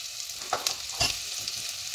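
Onion frying in a pan gives a steady sizzle, with a few brief stirring scrapes and clinks on top. There is no talking.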